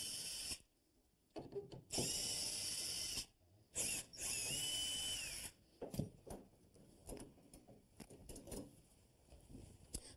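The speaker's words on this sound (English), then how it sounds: "So first thing I want to do is remove the hinge so I can make a template." Screws are driven out of a door hinge with a power drill, in loud bursts of whirring separated by pauses, followed by quieter ratcheting clicks and handling noises.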